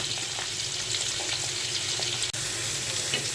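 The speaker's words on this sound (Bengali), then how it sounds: "মাছের মাথাটাও হালকা করে ভাজি করে নিলাম।" A rohu fish head fries in oil, giving a steady, fairly loud sizzle and hiss that continues without a break, with a few faint clinks from the pan.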